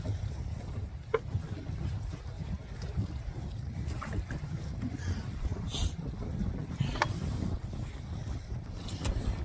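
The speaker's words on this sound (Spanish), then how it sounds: "Está soplando el viento muy duro. A lo mejor no me escuchan muy bien." Strong wind blows across Guntersville Lake, a steady rough rumble buffeting the microphone throughout, with faint boat and water sounds mixed in.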